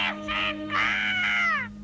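A cartoon parrot squawks in a few harsh, rising-and-falling cries, loud and close, alone over a faint steady hum.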